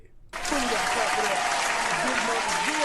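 Loud, dense applause from a studio audience bursts in abruptly and holds steady, with voices calling out over the clapping.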